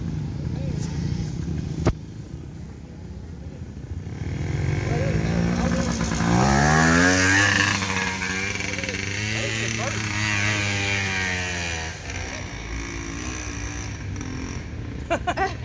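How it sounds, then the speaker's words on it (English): A trials motorcycle revs and climbs uphill, its engine note rising and wavering at mid distance, while people talk over it throughout. "Steven's gonna use John's trials bike."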